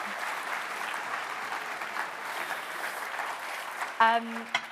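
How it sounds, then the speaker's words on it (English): An audience applauds Keir Starmer, the Leader of the Opposition, at a keynote event: steady, fairly soft clapping from a crowd, ending as a voice begins speaking near the close. "let's have a round of applause for Keir Starmer"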